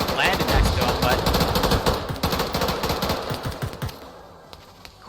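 Arma 3 video game gunfire: rapid automatic bursts rattle loudly and continuously for several seconds, then thin out into scattered shots, with voices faintly present beneath the shooting.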